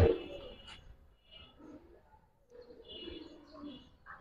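Faint, soft cooing and rustling from pigeons, fancy breeds such as giribaz, kept in a seller's loft. The short, low murmurs come and go in a quiet space with no talk.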